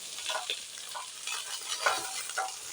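Mixed vegetables for shukto, including potato, radish, flat beans, eggplant, drumstick, long beans and sweet potato, fry together in a pan of oil with a steady close sizzle and recurring scrapes of stirring.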